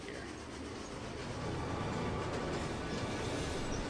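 A train in the video game Contra: Shattered Soldier, a dense continuous rumble and roar that grows louder partway through and then holds steady.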